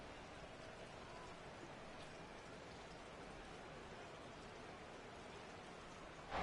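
Steady heavy rain pours down during an outdoor American football game between the Lions and Commanders, a continuous even hiss throughout with a brief louder burst at the very end.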